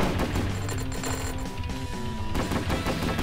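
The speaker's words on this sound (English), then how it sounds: "Machine gun is by far my favorite." A machine gun in the arcade-style shooter Galaxy Champions TV fires in steady, rapid streams of sharp electronic shots over busy game music and effects, loud and continuous throughout.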